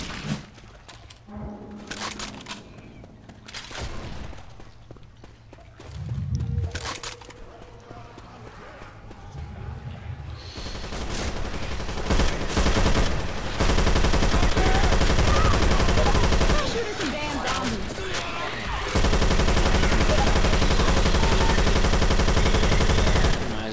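Rapid gunfire from the zombie shooter Left 4 Dead 2 on the Dark Carnival campaign: sparse shots at first, then dense, loud, sustained bursts of weapon fire in the second half, mixed with game noise and occasional talk.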